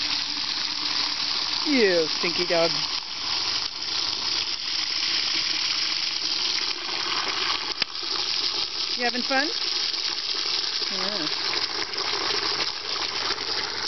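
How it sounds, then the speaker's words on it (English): Tap water runs steadily into a chicken waterer on a farm, a constant hissing gush under a voice talking to his dog. "I'm filling up the chicken water."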